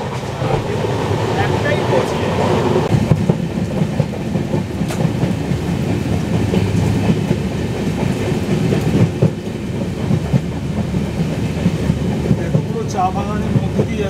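A Vistadome glass-roofed coach train on the Dooars route rolls steadily toward Siliguri Junction, with a constant loud rumble and rhythmic clickety-clack of wheels over rail joints, and faint voices beneath the running noise.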